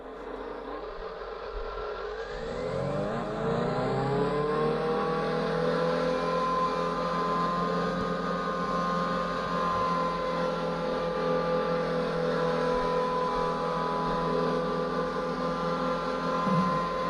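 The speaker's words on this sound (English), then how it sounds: "Turn on the motor." Electric motor on an RC model aircraft spinning up from rest, a whine rising in pitch over a couple of seconds, then holding a steady, close, humming drone to the end.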